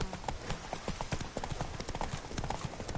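Roach the horse in The Witcher trots with quick, regular clip-clop hoofbeats on hard ground, close and steady, with faint voices briefly in the background.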